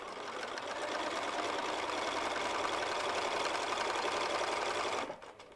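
A sewing machine stitches embroidery line by line in a continuous, loud, rapid mechanical whir, then stops abruptly near the end.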